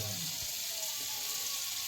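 Water pouring steadily into a pot to cook rice in a home kitchen, a continuous close hiss and splash with no one speaking.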